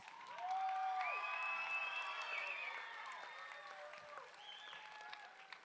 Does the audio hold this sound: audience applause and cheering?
yes